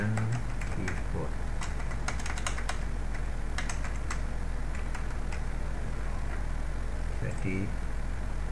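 Computer keyboard keys clatter in quick irregular bursts of clicks during an online class lesson, partly under a steady hum and someone talking over the typing.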